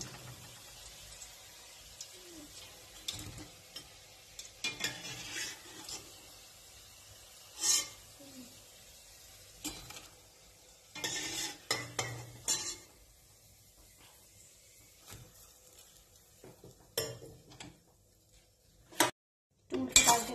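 Fried sweet potato kalo jam sweets lifted from the pan and dropped into sugar syrup, heard as scattered close scrapes and clinks of a utensil against a pot, separated by quiet gaps, with a louder clatter at the end.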